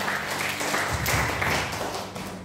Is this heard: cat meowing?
no